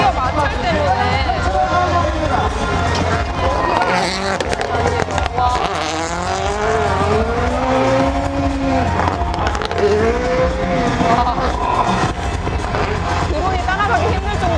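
Rally and drift cars at a Hyundai Toyota motorsport festival roar continuously with screeching tire friction and engine revving, loud and close to spectator stands, with crowd noise and a commentator speaking over the constant din.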